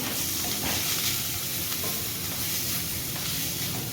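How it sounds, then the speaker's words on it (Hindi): Chopped onion being stirred with spices in a hot pan for wheat-flour kachoris, a steady close sizzle and frying hiss with soft scraping stir sounds throughout, no talking. "इसको थोड़ा सा मिक्स कर लेते हैं इस तरीके से सारा मसाले के साथ।"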